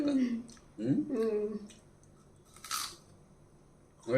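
Raw onion bitten with a single crisp crunch, eaten alongside steamed jowar rava leftover rice; a person talks just before the bite, then the chewing fades into quiet.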